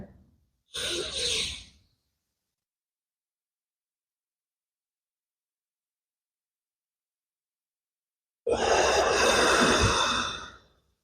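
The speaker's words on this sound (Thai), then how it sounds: "นี่เขาเรียกหายใจลึก" Deep breathing during a Buddhist meditation session: one short, close breath, a long silence, then a long, loud, steady exhale.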